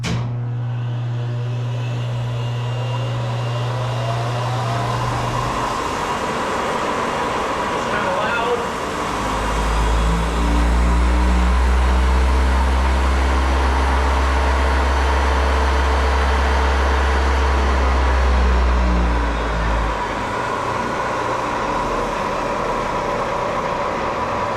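A Bridgeport Series 2 milling machine powered through a phase converter hums steadily, its drone deepening and growing louder as the motor spins up midway before easing back down, while someone talks over it.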